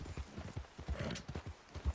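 Horse hooves clip-clopping in a steady rhythmic gait in the video game Red Dead Redemption 2, close and fairly quiet, with no talking.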